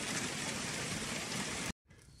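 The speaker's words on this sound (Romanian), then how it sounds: "n-am înțeles de ce mai plouă." Steady rain falling outdoors, a dense, even hiss of drops close by for almost two seconds before cutting out abruptly, leaving only a faint background.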